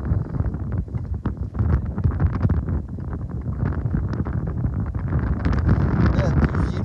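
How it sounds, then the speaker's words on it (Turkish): Strong outdoor wind buffeting the microphone at a site where a dome oven is being built, a loud continuous rumbling roar filling the whole stretch without pause. "Gerçi rüzgarın sesi size kadar ulaşıyordur büyük ihtimalle ama."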